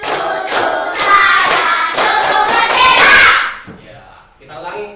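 A classroom of third-graders performs a rhythmic clapping game, with sharp claps landing in a steady beat alongside children's chanting voices. The clapping stops near the end, leaving a short spoken phrase.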